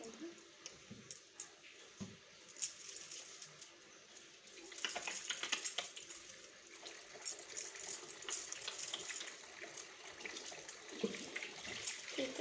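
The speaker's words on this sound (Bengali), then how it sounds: "হাতটা আমি একটু ধুয়ে নেব" Hands are washed under a running kitchen tap. After a few quieter seconds of scattered clinks, the water starts and splashes steadily at close range.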